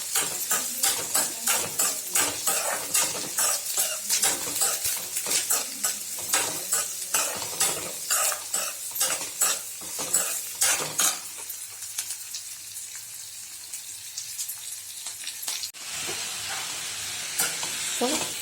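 Carrot, cabbage, onion and chilli stir-fry in a pan for poriyal, a loud steady sizzle broken by rhythmic scraping strokes of a spatula that stop near the end, leaving the hiss alone.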